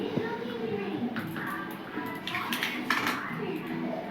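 A metal spoon clinks and scrapes against a hot kadai while stuffing pointed gourds, in short irregular scrapes and taps, with someone talking over the kitchen sounds.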